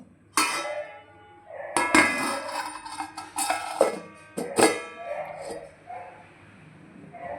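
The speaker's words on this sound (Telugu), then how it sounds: "మూత పెట్టేసుకుందాం" A metal lid is set on a cooking pot of okra fish curry, giving several sharp clanks and rattles close by, with short pauses between the knocks and a lighter clink at the end.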